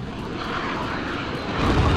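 A VTOL aircraft flying in the video game Modern Warfare, a dense continuous engine roar that swells slightly louder toward the end, with no talk.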